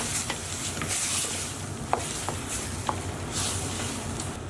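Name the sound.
pine nuts and spices frying in a pan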